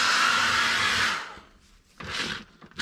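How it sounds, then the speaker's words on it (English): A small travel hairdryer blows hot air over a vinyl chassis protector sticker on an Arrma Kraton 6S EXB V4, with a loud steady rush that cuts off, then returns briefly after a pause. "We're going to go over it with the hairdryer and just dry it all off as well."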